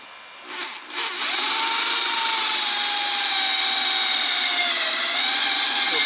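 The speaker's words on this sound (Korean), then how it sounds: "이 드릴로 해서 요 부분이 들어갈 수 있게끔 살짝만 훑어주는 거예요" An electric drill grinds against a metal part of an LPG gas burner, spinning up after a brief start and then whining steadily and loudly for several seconds without talk.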